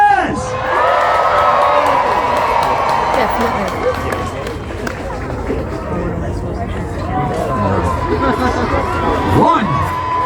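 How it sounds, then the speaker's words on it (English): Crowd at a Renaissance fair jousting list cheering and shouting for a jouster, a loud sustained roar of voices and whoops with children's shrieks, and a voice speaking briefly within it. "If you cheer for the man from Mexico,"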